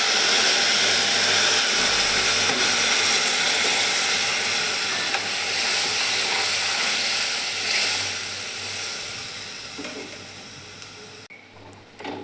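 Spice masala of cumin and red chilli powder fries in hot oil for a Marathi chavali and potato curry, making a loud, steady sizzle and hiss that fades slightly toward the end, with no talking.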